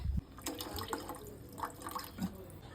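Water poured into a cooking pot to thin an over-salted dish, a short splashing, trickling stream close by with some faint drips and soft kitchen clatter.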